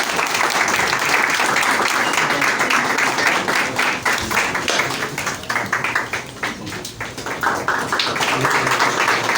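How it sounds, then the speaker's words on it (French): An audience at a conference on pan-Africanism and geopolitics applauds the day's speaker, with dense, sustained clapping from many hands at steady loudness, a few voices mixed faintly into it. "sous votre applaudissement, s'il vous plaît."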